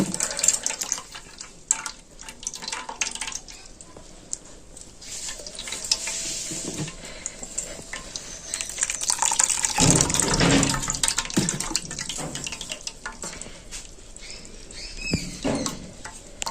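Sago pearls being rinsed clean in cold water and strained: a steady wet swishing and splashing throughout, swelling into a fuller rush of pouring water around the middle, with scattered clinks, and no talk.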